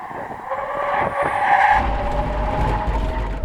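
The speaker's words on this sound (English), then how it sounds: "Now we're going to do a brake test from 70 miles an hour." Tesla Cybertruck and Hummer EV braking hard from 70 mph on a test course: tires squeal and skid for a few seconds, followed by a low rumble as the vehicles come to a stop, with no talking.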